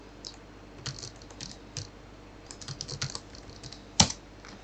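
Password keys typed on a computer keyboard, a burst of close, light clicks in an uneven rhythm ending with one sharper, louder keystroke, no speech.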